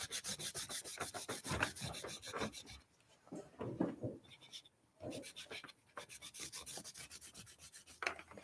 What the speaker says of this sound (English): I would sand it down with a little bit of 320